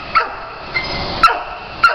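Dog barking at an adoption shelter: four short, sharp barks spaced roughly half a second apart, fairly close and clear against a steady background hum of the kennel.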